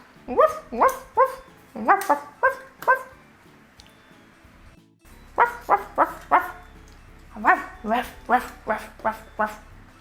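Several dogs bark beside a swimming pool in short repeated bursts, grouped volleys with brief pauses between them, loud and close, and a lull in the middle before the barking resumes.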